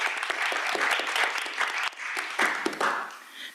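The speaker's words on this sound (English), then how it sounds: "can we give a round of applause to all of our school counselors?" Applause from an audience at a school board business meeting, honouring school counselors; a steady, moderately loud patter of many hands clapping for a few seconds, with a faint voice mixed in.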